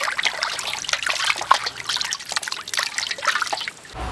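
Pork ribs are rinsed under running water from a tap, a steady close trickle and splash with small irregular drips throughout, no talking.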